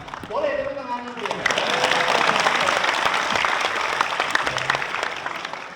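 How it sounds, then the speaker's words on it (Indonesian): An audience at a talk on science and technology in Islam breaks into sustained applause. The clapping swells after a speaker's voice and holds steady to the end. "Boleh tepuk tangan dulu."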